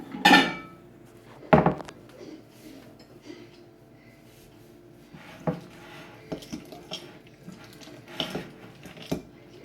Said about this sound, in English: We're going to check on our chocolate again and give it another stir.